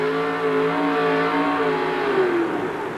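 Yellow Fever pulling truck at a 1988 USHRA truck pull in Houston, engine revving loud and steady for about three seconds, its pitch rising then sagging slightly, with no voices.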